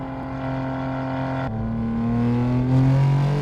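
Inside a 711 hp BMW G87 M2 Clubsport on the Nordschleife, the engine holds a loud, steady tone, then drops on a quick shift and climbs again with rising revs.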